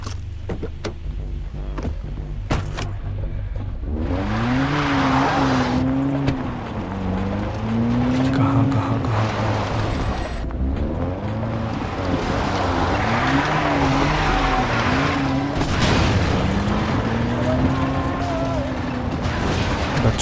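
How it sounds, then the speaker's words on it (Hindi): A car driven in the video game Far Cry 3 revs and drones loudly and continuously, its engine pitch rising and falling as it shifts, with a voice talking intermittently over it. "गाड़ी है तो गाड़ी से चलते हैं फिर।"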